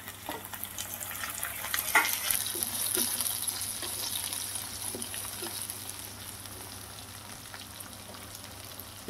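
Onions, green chillies and tomato pieces fry in a pan, giving a steady close sizzle with a few scattered stirring clinks and scrapes throughout.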